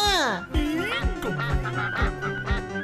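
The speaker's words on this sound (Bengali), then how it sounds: "এই তো হাঁস।" A cartoon duck gives loud, nasal quacks and honks in a rapid string, each call bending in pitch. The calls are close and fill the whole stretch.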